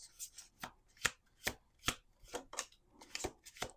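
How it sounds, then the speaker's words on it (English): Crisp, rhythmic riffling taps from cards being shuffled, about ten sharp bursts evenly spaced, close and quiet with no talking. "We're going to do 2 more shuffles."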